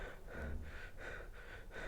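A person imitates mouth breathing, with repeated rhythmic breaths drawn in and pushed out through the open mouth, close and fairly loud, with no other sound.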